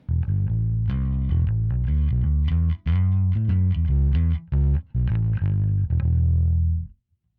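Bass guitar through a Spaceman Effects Saturn VI pedal with the tone control at noon, loud, fuzzy sustained notes in a steady phrase with a few brief breaks, ending in a fading ring.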